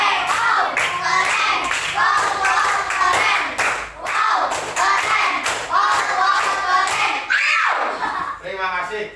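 Students in a class give a rhythmic appreciation clap in patterned bursts with short pauses between, loud and close, and children's voices chant along and talk between the rounds.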